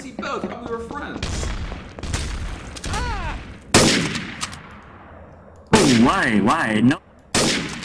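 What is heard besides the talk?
gunfire and sniping in a video game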